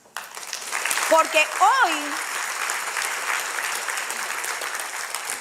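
Congregation applause rises at a church service and holds steady as a broad wash of clapping, with a voice speaking briefly over it near the start.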